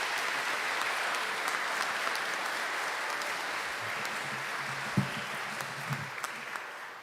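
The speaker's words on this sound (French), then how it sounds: "je vous invite d'applaudir Monseigneur aussi particulièrement" A church congregation applauds the bishop after Mass, a steady, fairly soft wash of many hands clapping throughout, with a few louder claps near the end.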